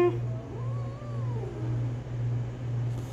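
A house cat growls and yowls indoors, a drawn-out, wavering low cry heard close and fairly loud, with a steady hum beneath it.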